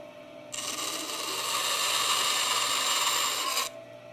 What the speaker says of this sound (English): Just going to fire up the bandsaw